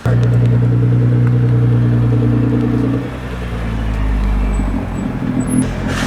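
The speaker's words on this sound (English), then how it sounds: "let's go pull up the car" A BMW F80 M3 idles and rumbles as it is pulled up, a steady loud engine drone with strong low harmonics that shifts and eases after a few seconds as the car moves.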